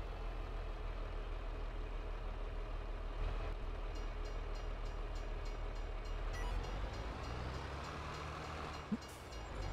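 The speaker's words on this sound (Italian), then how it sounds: "Treno." A train in Farming Simulator 22 rumbles steadily with a low, droning engine and rolling wagons, a continuous, fairly distant sound with a brief clank near the end.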